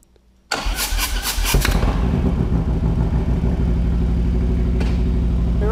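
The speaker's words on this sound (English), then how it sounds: "Now, we're going to give this a first test drive with the starter, hoping it don't fall out." A motorcycle engine at a bike rally is cranked with the electric starter, a brief whirring crank that catches and fires into a loud, steady, throbbing idle close to the microphone.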